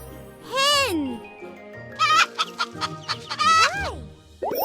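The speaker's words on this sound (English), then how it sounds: "Hen." Hen clucking close by, with drawn-out squawking calls at the start and end and a run of short, rapid clucks between them, loud and clear.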